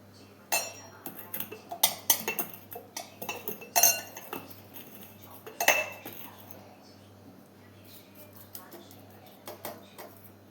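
A lemon is rubbed around the rim of a glass while making a Holi-special mojito, heard as soft scattered clinks and scrapes of glass and kitchenware against a low steady hum, close by and fairly quiet.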